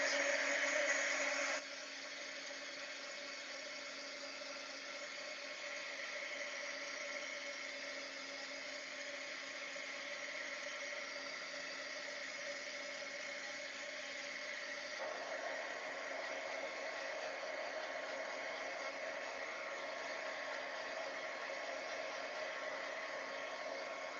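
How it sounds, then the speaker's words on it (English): A heat tool drying ink on a paper craft gives a steady, even whir that holds for about twenty-four seconds, slightly louder at the start, with no talking. "now I'm going to give that a little heat just to dry it"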